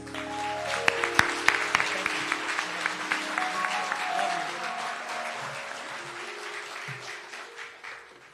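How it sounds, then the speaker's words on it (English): An audience at an African American contractors' day event breaks into warm applause, a dense, sustained wash of many hands with a few sharp claps near the start, steady throughout and fading slightly toward the end. "Please give a warm rainbow push round of applause to Sister Janae Nelson."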